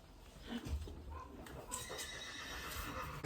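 A horse at a show-jumping championship gives a whinny among soft hoof clops, moderately close but fairly quiet, with a brief sharp knock at the end.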